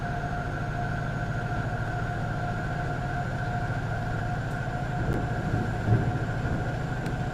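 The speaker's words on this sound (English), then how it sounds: "it's not unreasonable to expect people to think that every train stops, when in fact this one is going through very fast" A train in the TS2020 Wherry Lines simulator, on the Norwich to Great Yarmouth route, runs through at high speed without stopping: a steady, even drone with a constant tonal hum, heard alone throughout.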